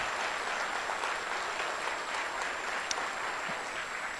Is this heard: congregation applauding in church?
yes